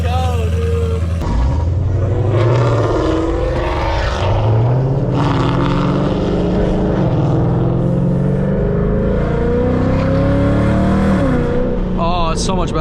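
A 2024 Ford Mustang GT with a full aftermarket exhaust revs loudly and close, the V8 note rising and falling through several blips after a sharp start, with voices talking over it.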